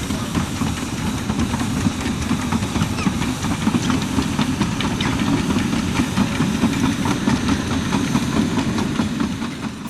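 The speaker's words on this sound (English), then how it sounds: "I film the train on the Llanberis extension" A narrow gauge steam locomotive on the Llanberis extension in Wales, heard as a steady, loud low chuffing rumble with continuous mechanical clatter, close by and unbroken throughout.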